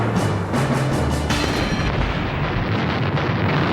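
German artillery fire on Leningrad comes as a dense, continuous roar of booms and rumbling blasts, loud and unbroken throughout, with a sharper burst near the start and no voices.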